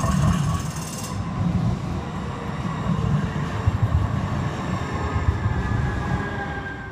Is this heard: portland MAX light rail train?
yes